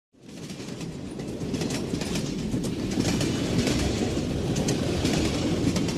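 Train travelling through countryside, a steady close rumble of wheels on the rails with rhythmic clickety-clack, rising quickly from silence and holding at a loud, even level.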